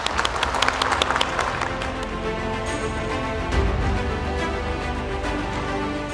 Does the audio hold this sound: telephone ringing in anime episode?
no